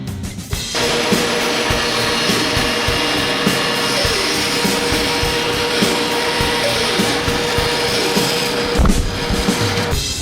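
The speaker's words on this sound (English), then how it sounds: "I'm going to go ahead and use a pattern bit and take this piece all the way down to the template." A router fitted with a pattern bit trims a bandsawn wooden cutting board blank flush to a template, letting out a loud, continuous high-pitched whine that briefly shifts in pitch as it cuts and stops near the end.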